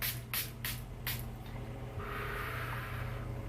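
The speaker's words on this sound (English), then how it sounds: "So I'm going to go ahead and spray one more time." Several quick hissing spritzes from a makeup setting spray bottle come close together, then a longer softer mist follows.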